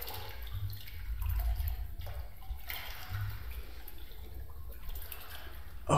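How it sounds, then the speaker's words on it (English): Water sloshing and dripping in a dark flooded corridor in The Complex: Expedition, a steady low wash of liquid movement with faint splashes, moderately loud and continuous throughout. "all you hear is like the sloshing of water"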